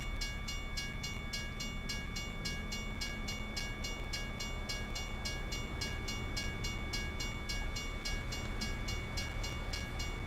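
A train rolls past in American Truck Simulator with a steady rumble and a regular rapid clicking rhythm of wheels on track, loud and continuous with no talking.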